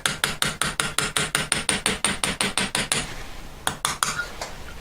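A hammer rivets a silver box hinge with about twenty quick, evenly spaced metallic taps, close and bright. A short pause follows, then a few more scattered strikes.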